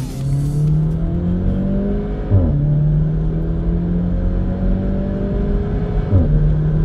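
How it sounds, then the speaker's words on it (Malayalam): Modified VW Polo GTI in sport mode revving hard, heard from inside as the engine note climbs and snaps down at quick gear changes, loud and continuous with a sharp crack at each shift. "ലൈക് ഗിയർ മാറുമ്പോഴുള്ള ബ്രും ബ്രും ബ്രും ഉണ്ടല്ലോ"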